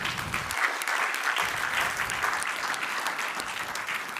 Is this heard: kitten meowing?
no